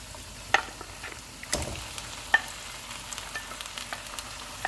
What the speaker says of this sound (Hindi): प्याज फ्राई हो गए हैं, इसमें मैरिनेटेड चिकन डालेंगे